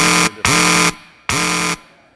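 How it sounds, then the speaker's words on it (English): A debate timer buzzer blares at a video advertising summit, three loud, harsh electronic bursts in a short-long-long pattern with brief gaps between them. "You got it just in at the buzzer."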